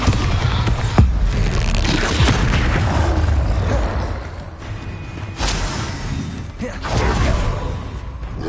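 A Bombarda spell blast in the Hogwarts Legacy video game, heard as a sharp booming impact followed by rumbling, crashing game effects that carry on loudly through the whole stretch.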